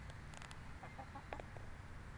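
Free-roaming chickens wandering a street give a few soft, short clucks over faint background noise, quiet and somewhat distant, with no talking.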